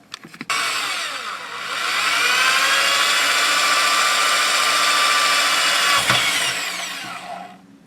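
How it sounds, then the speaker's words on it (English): A power drill whines loudly and steadily for several seconds, close by, drilling vent holes in a rifle handguard before spinning down. "drill the vent holes on the original handguard to help dissipate the heat"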